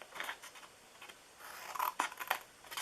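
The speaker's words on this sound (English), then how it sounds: "I always feel clumsy with these little snips" Small snips cutting craft paper for a DIY purse, a quiet series of crisp snipping and scratchy rustles, irregular and close, with a few sharper snaps near the end and no talk.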